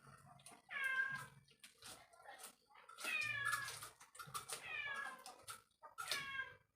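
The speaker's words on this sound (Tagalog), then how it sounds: "Yung mga pusa namin dito. Sa kapitbahay namin dito." Several household cats meow over and over, loud and close, with overlapping drawn-out calls coming in quick succession indoors.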